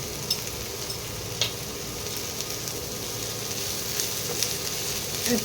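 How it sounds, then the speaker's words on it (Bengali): Chopped garlic and onion frying in a pan for a brinjal dish, a steady soft sizzle with a few faint scraping taps, no voices. "পেঁয়াজের মধ্যে আট দশটা রসুন কুচি দিয়ে দিলাম এটাও একটু ভাজা ভাজা হবে"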